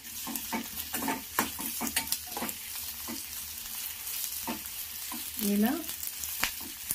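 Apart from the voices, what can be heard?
onions and curry leaves frying and being stirred in a pan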